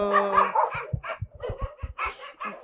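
Dogs at a Ukrainian animal shelter bark in a quick, irregular string of sharp yips and barks, close and fairly loud, with a whiny, drawn-out cry at the start, no talking over them.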